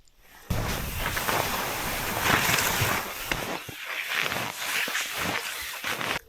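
Wind rushes across a snowy mountain peak, a loud broadband roar buffeting the microphone in uneven gusts after a quiet start.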